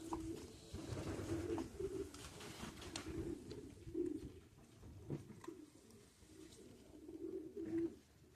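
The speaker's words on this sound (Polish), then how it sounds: "Tutaj też super gołąb." Several pigeons coo again and again at close range, soft low rolling calls under continuous background rustle and shuffling, with no talking.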